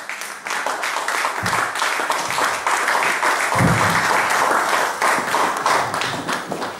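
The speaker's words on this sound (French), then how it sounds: "nous allons applaudir pour le Seigneur." A church congregation claps for the Lord as the pastor approaches, steady dense applause close by with a couple of heavier thumps, continuing throughout without speech.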